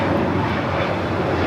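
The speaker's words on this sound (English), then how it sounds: "That was JetBlue 324 taking off to JFK on the A321 Neo" A JetBlue Airbus A321neo takes off at LAX, a loud, broad, steady engine roar with no voices over it.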